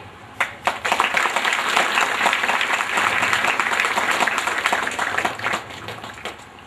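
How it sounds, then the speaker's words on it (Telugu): A crowd applauds steadily for several seconds, a dense wash of clapping that rises, holds, then tapers off. "చప్పట్లు బాగానే కొడుతున్నారు"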